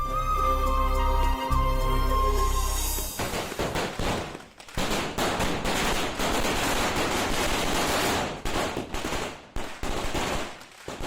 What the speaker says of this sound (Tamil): யாருப்பா இங்க பட்டாசு வெடிச்சது?